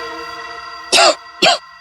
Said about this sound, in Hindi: ये कोई आम खांसी नहीं, टीबी वाली खांसी है।